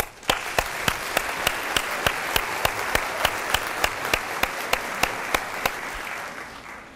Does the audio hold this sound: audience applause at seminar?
yes